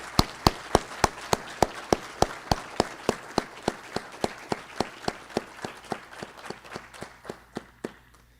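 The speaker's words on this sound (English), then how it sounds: "I think we all owe her a big round of applause" A single person claps steadily at a graduation ceremony, about thirty evenly spaced sharp claps over several seconds, close and alone, fading slightly toward the end rather than a full crowd ovation.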